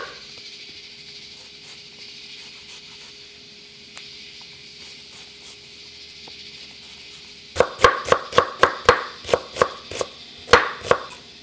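A knife minces a very large onion on a cutting board: about a dozen sharp, separate chops in quick succession near the end, after a stretch of quiet room hum.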